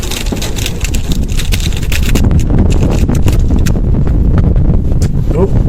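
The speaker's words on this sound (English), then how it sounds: "Oh, the wind's kicking up now." Strong outdoor wind gusts steadily across the microphone, making a loud, constant rumbling buffet with rough crackling bursts.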